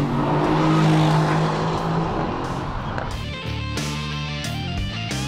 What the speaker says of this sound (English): the music coming out of those dual exhaust tips is simply mesmerizing